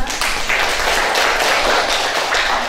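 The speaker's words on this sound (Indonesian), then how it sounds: "Aplaus buat kita semua" A classroom group gives a short burst of applause, with dense, steady clapping from many hands at close range throughout.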